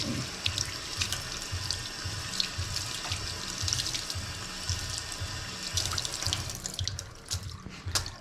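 Tap water runs steadily into a sink while a paint brush is rinsed of water-based polycrylic, a constant close splashing stream with small sloshing pulses, no talk.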